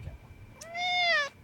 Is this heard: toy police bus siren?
no